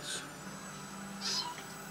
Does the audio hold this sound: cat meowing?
yes